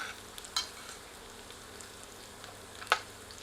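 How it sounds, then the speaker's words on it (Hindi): Guinea fowl pieces frying in oil for a curry, a faint steady sizzle with a couple of sharp pops and crackles standing out. "इन्हें फ्राई करके गोल्डन कर लेते हैं।"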